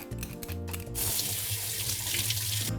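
Tap water runs steadily into a kitchen sink while coconut meat is rinsed and drained to clear away bits of shell, a broad rushing wash that swells after a brief softer start and holds close and loud.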